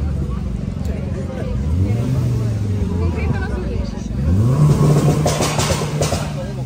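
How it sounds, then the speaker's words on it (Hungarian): Tuned cars at a tuning show exhaust sound pressure contest rev their engines loudly nearby, with repeated rising and falling engine pitches over a crowd's babble and talk. "Kipufogó hangnyomás van. Azért dúrognak itt ennyire."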